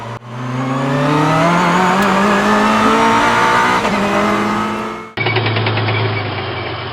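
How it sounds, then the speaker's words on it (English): A sports car engine accelerates hard and close, its pitch climbing through a long rising pull, then a sudden shift into a lower steady drone as the car carries on. "Sports car."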